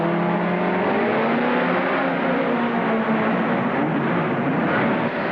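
Grand National sport trucks launching off the start of a 1994 MTEG race in Seattle, Washington, a loud dense engine roar climbing in pitch as revs build, continuous and close throughout.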